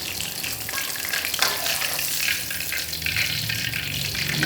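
Tilapia frying in hot oil makes a dense, loud, continuous sizzle close by, with steady bubbling crackle and no talk.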